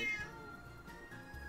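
A cat meowing faintly once or twice in a quiet room, soft and brief with low background hum.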